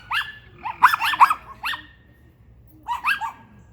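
Dog barking in short close bursts, a quick cluster of four or five sharp barks, a pause, then another pair of barks against a quiet background.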